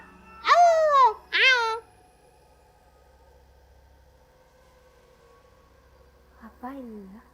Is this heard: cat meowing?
yes